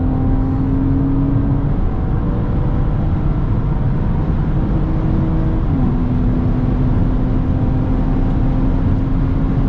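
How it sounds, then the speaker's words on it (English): A BMW accelerating at full throttle, steady loud engine drone rising in pitch, with a gear shift around two seconds and another near six before pulling on again. "here we go, full throttle. Shifting there."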